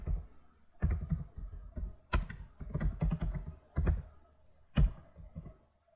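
Fingers type HTML text on a computer keyboard, producing close, irregular bursts of keystroke clatter with short pauses between runs.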